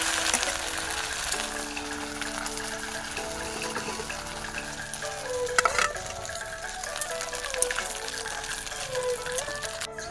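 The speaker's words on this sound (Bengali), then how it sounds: "চলুন ঝটপট এগুলো ভাজা যাক" Food sizzles and fries steadily in a pan while Bengali home cooking gets under way, a continuous crackling hiss with a few brief clinks and pops throughout.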